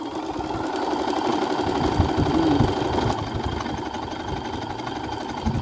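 A Brother BC-6000 computerized sewing machine stitches a design with a steady, continuous mechanical whir and rhythmic needle clatter, close and fairly loud with no talking.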